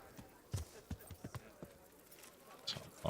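Horse hooves clip-clopping on a path toward a tavern in the medieval game Kingdom Come: Deliverance, a quick run of near, uneven knocks that slow and stop, with a few fainter thuds after.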